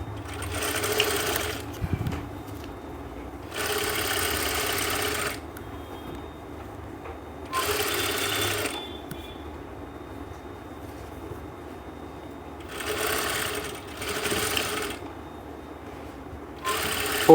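Electric sewing machine stitching the crotch seam of an Afghani salwar, five separate runs of fast, even whirring a second or so long, separated by quiet pauses while the fabric is handled.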